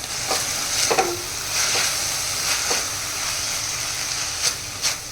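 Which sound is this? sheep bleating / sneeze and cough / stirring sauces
stirring sauces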